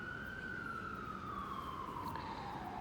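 A fire truck or ambulance siren sounds as a single long wail that slowly falls in pitch, moderately distant and steady over a constant traffic-like background hum.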